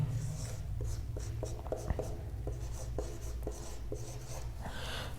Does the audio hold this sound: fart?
no